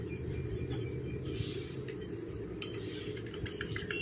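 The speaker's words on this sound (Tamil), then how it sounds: "இந்த மாதிரி கரண்டி வச்சு நல்லா கலந்து விட்டிங்கன்னா நல்லா திக்காக ஒரு கன்சிஸ்டன்சியில் நமக்கு வரும்." A spoon stirs egg white and powdered sugar in a bowl into a thick mixture, making a continuous scraping, clinking stir up close, with no talking.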